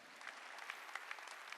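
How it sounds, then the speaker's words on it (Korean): Church congregation clapping at a Korean worship service, a quiet, steady patter of many hands through the whole stretch with small louder bursts, heard from some distance with no voices over it. "박수야."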